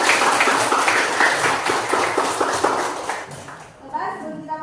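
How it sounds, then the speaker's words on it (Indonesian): A classroom of students claps in a quick, rhythmic burst of loud hand claps that fades out, followed by a voice speaking. "tepuk tangan."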